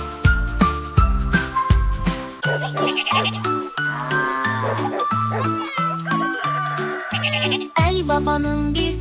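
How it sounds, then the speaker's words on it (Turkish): Lambs bleat repeatedly over the bouncy backing of a children's farm song, the bleats riding above plucked bass notes and chimes while a voice sings along. "çiftliğinde kuzuları var. Meme diye bağırır çiftliğinde Ali Baba'nın."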